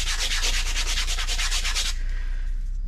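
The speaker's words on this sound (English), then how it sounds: "Starting off with a little 120 grit instead of like 40 or 80." Hand sanding a Chevrolet C-10 truck body panel with 120 grit sandpaper, a steady run of rhythmic rasping back-and-forth strokes up close for about two seconds, then stopping.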